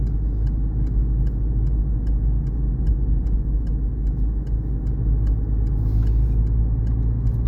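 Car engine droning steadily from inside the cabin during a driving lesson as the foot eases off the gas, a constant low rumble with faint regular ticking over it.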